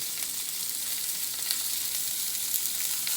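Asparagus and prosciutto sizzle steadily in a hot pan, a dense, close, continuous frying hiss with faint crackles throughout and no talk.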